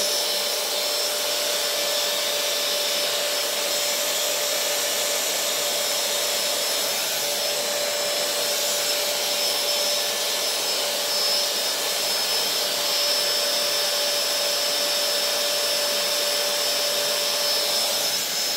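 A hot-air styler hair dryer blows in a steady, unbroken whoosh with a faint high whine, running close by throughout while hair is curled around it.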